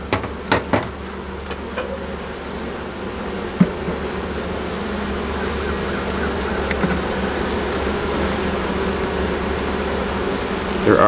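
Dense, steady buzzing of many honey bees close by inside an open hive, continuous throughout, with a few soft knocks and clunks near the start.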